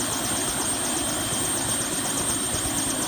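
Five-passenger tour helicopter near the Hoover Dam Lodge, a steady loud rotor and engine roar with broadband wash that stays constant throughout, heard from inside or right beside the aircraft.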